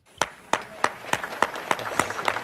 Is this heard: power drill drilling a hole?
no